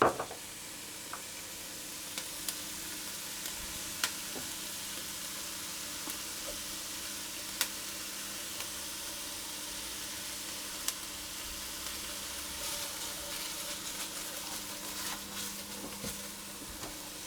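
Garlic frying in a pan for harira, the North African soup, gives a steady, quiet sizzle with scattered small ticks and pops, and no one speaks.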